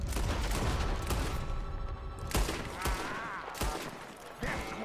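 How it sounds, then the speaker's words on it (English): Enemies fire guns in the Red Dead Redemption 2 video game. Several sharp gunshots crack over a dense, steady wash of background noise. "Are you kidding me? You're still shooting at me?"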